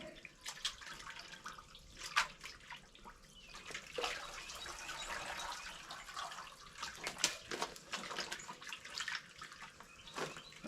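A chicken being processed is dipped repeatedly in water, giving faint sloshing, splashing and dripping sounds in an irregular rhythm for several seconds, with no talking.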